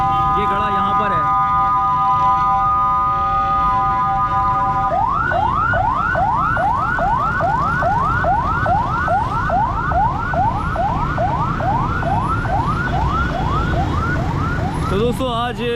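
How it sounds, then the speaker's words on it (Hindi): An ambulance siren on a rain-damaged street in Karachi blares loud and close, first holding a steady tone, then switching to rapid repeated rising wails that continue throughout. "इस एम्बुलेंस के अंदर मरीज़ है"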